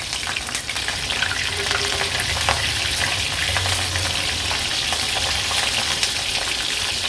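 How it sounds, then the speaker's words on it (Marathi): Raw jackfruit pieces crackle and hiss in hot oil in a kadai, a dense continuous frying sizzle that stays close and steady throughout, with no talking. "आता हे पुसून घेतलेले फणसाचे तुकडे आपण या तेलावर सोडूया"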